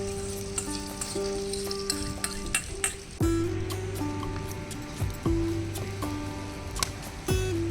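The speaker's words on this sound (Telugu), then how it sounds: "ఇప్పుడైతే మనం ఆమ్లెట్ వేసేస్తున్నాం." Omelette frying in an oiled pan, a steady close sizzle with several sharp scraping and tapping spatula strokes over a low background hum, no voices.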